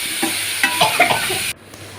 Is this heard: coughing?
no